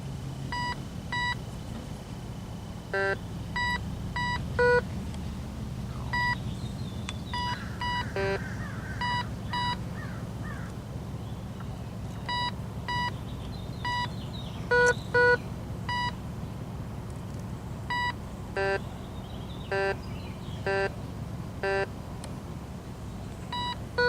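A GOYOJO metal detector set to full sensitivity beeps repeatedly over a coin, sounding short, bright tones in irregular bursts over a steady low background hum.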